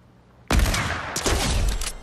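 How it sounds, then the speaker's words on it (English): A sniper rifle fires a headshot in a video game: a sudden loud, sharp blast followed by a sustained burst of dense crackling noise, with no talk. "That was a headshot."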